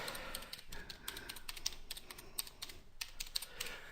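Rapid keystrokes on a computer keyboard, typing an address into a browser, sound close and crisp in an irregular stream of clicks with no voices.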